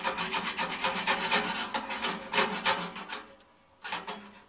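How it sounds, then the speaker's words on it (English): A wire brush scraping the inside of a small stove's firebox, with rapid rhythmic rasping strokes in quick bursts, a short pause, then a few more strokes, close and clear with no talk. "So I'm just going to give the firebox a bit of a scrape with this wire brush"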